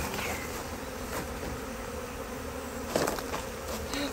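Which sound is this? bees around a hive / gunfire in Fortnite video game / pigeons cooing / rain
bees around a hive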